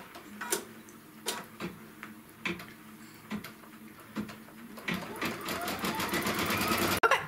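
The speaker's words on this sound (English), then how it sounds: "So now I'm going to stitch the second design, and this is still the A pattern." An embroidery machine stitches an edge-to-edge quilting design, ticking in a steady rhythm of needle strikes that quicken into a faster, denser whir toward the end.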